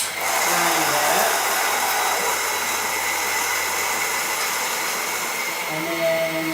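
Electric grinder whirring steadily through roasted coffee beans in a home roasting setup, a loud continuous buzz holding for several seconds before easing slightly as the motor winds down.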